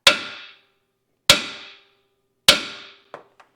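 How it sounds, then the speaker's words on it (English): A hammer strikes the steering knuckle of a 2024 Chevrolet Silverado 1500 three times, each blow a loud, sharp metallic clang that rings and fades before the next. Two small light taps follow the last hit. "We're just going to give it a good smack."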